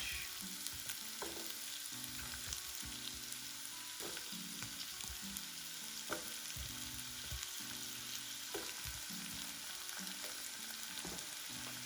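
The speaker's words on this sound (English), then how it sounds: "We're cooking the zucchini for about 2 to 3 minutes" Zucchini summer squash seasoned with garlic salt fries in a pan, giving a soft, constant sizzle with light stirring knocks throughout, quiet and without talk.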